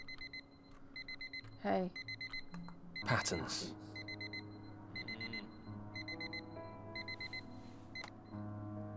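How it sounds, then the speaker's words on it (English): A repeating electronic alarm clock tone from the video game Fragments of Him beeps in steady bursts, with a loud clatter and a brief spoken word over the pattern. "The same alarm tone that Harry can sleep through."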